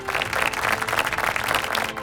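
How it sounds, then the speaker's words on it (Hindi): A studio audience at a family Bible quiz applauds to welcome a team onto the stage, making steady, fairly loud clapping with a low hum underneath. "जोरदार तालियों से इनका स्वागत करिए"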